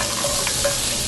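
Half an onion sizzles in a very hot pot while roasted vegetables are sautéed, giving a steady, close hiss of frying with a few brief spatters and stirring sounds.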